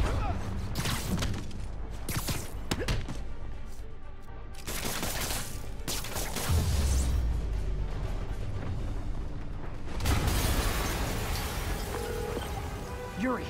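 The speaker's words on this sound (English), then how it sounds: "an explosion just... I saw it." Booming blasts and crackling bursts from Marvel's Spider-Man, one heavy explosion rolling in the middle and another near the end, over a constant rumbling battle din.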